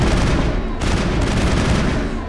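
An explosion in the video game Mass Effect, a loud dense rumbling blast with crackling debris that keeps roaring for a couple of seconds, brief break, then rolling on.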